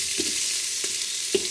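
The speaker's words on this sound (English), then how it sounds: "saute the beef along with the garlic and onion and try to, brown this a little bit" Beef chuck sautés with garlic and onion in an Instant Pot Duo 60 electric pressure cooker for beef mechado stew, a steady soft sizzle with three brief scraping or tapping stirs spaced across the moment.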